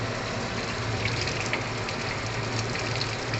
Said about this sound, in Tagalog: Isunod natin sa isda. Pero, hugasan natin.